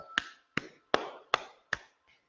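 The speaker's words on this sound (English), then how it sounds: "get some nice tapping in there. Or clap your hands." Palm tapping and hand clapping during a qigong routine: five sharp, evenly spaced slaps about 0.4 seconds apart, close and fairly loud, followed by a sixth much fainter one, with no talking.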